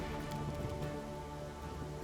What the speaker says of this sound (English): And oh god, it's raining.